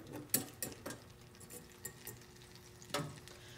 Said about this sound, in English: Get those shallots in there.